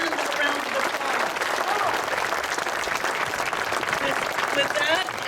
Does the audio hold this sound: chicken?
no